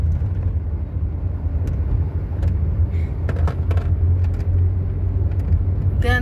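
Steady low engine rumble of a car being driven, loud and continuous from the inside, with a few faint clicks and a brief rattle near the end.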